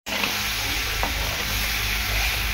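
Poppy seed paste with cumin and coriander powder stirred in a hot frying pan while preparing jhinge posto (ridge gourd), giving a steady close sizzle with scraping stirs throughout and no voices.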